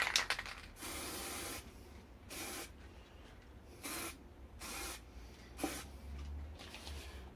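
Spray paint hissing onto a Nitecore TIP flashlight in about six short bursts of roughly half a second to a second each, close and fairly quiet, with brief gaps between them and no speech.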